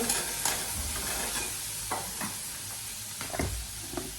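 Cooked morning rice heats in a pan with a steady close sizzle, broken by several distinct scrapes and knocks of a spoon stirring it.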